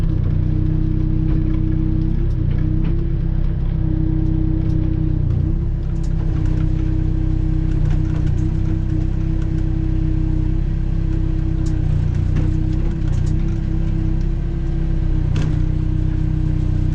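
A backhoe's diesel engine drones loudly and continuously as it flips over a plow and spins it around, with occasional louder surges and faint clunks over the steady hum.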